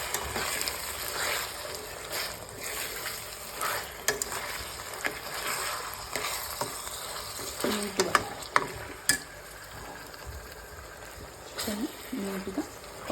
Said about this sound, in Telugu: ఇప్పుడు చికెన్ని ఈవెన్గా కలుపుకుంటూ